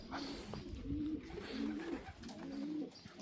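White homing pigeons in a new loft coo in low, repeated rolling phrases, about four close calls over a steady rustle of background noise.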